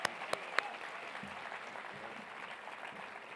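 A luncheon audience applauds, a faint, distant patter of clapping with a few sharp claps near the start that settles into a soft, steady wash.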